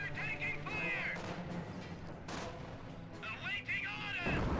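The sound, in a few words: armored car strafing gunfire in Company of Heroes video game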